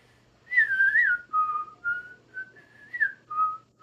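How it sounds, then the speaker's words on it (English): A person whistles a bright, beachy summer song alone, with a clear melodic line of sustained and gliding notes broken by short pauses across a few seconds. "Let me whistle right now."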